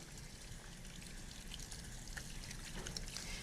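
Water runs steadily from a faucet while hands are rinsed, a faint, continuous trickle and splatter with no talking.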